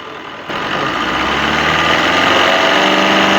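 Car engine with faulty Bosch injectors idling and then revved, a steady mid-pitched running note with a rapid rhythmic tapping knock, close and loud, rising slightly as the revs climb after a brief quieter start.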